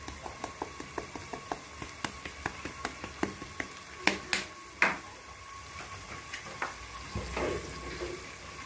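Onions frying in a pan with red pepper and chicken spices, heard as a light sizzle under a run of sharp stirring clicks and taps, then a few louder knocks against the pan.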